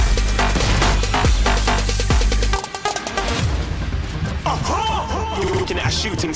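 Fortnite gunfire in a Tilted Town match, with several sharp repeated shots and impacts over steady game music and noise, loud and close, then a busier stretch of clatter and effects.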